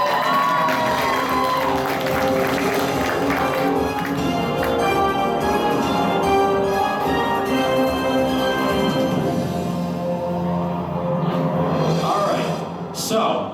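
An anime convention crowd at a Who Wants to be a Millionaire game show cheers and applauds for a final contestant, a loud sustained roar of clapping and shouts that fades slightly at the end.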